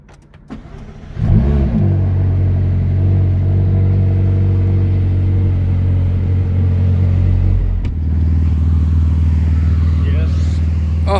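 A BMW car engine cold-starts after a brief crank, settling into a loud, steady, deep idle rumble that holds for several seconds, dips briefly, then continues.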